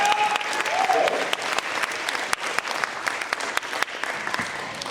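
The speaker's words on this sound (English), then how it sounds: "Let's give these 2 a big round of applause." A round of applause breaks out at a karate belt test for young students, scattered sharp claps from a modest audience over roomy background murmur, with a brief voice near the start.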